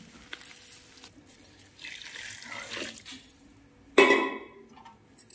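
Pre-heated hot water poured into frying rice in a large pot for Bombay-style chicken biryani, about two litres onto two kilos of rice: a steady rushing pour that swells, then a sudden loud splash and hiss before tapering off.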